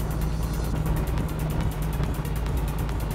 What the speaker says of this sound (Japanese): なんかエンジンが軽く回ってるような気がする